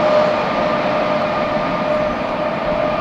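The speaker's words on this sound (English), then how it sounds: "awesome M train DPU right there" A CSX freight train with a distributed power unit rolls past in fog, a loud, continuous rumble of wheels and rail noise close by, with no talk.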